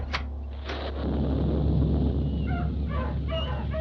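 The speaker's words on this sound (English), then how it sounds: "It's raining cats and dogs." Dogs bark and whimper while cats meow in a sound-effect gag for a Christmas radio adventure. Yips and whines rise over a steady low hum, and a few short yelps stand out alone.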